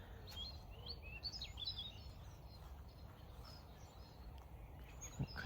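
Blackbirds sing in a spring evening garden, their distant, faint chirps and song phrases scattered over a steady low rumble of background noise, with no voices.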